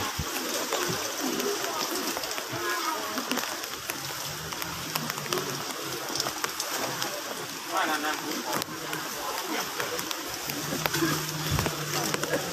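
Steady rain pours down during a Buddhist monks' morning alms round at Wat Non Than in Thailand, a loud constant patter with someone talking over it.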